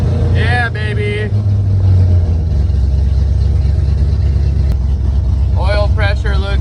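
A 1995 Ford Mustang 5.0 V8 engine runs with a steady, close rumble that holds throughout, with a person talking briefly at the start and again near the end.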